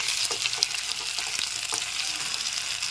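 A teaspoon of ginger garlic paste fries with onions in hot oil for a spicy bhola fish dish, making a bright, constant sizzle with a few light stirring taps.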